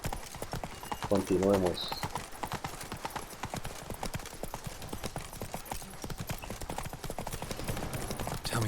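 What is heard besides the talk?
horse galloping in video game The Witcher 3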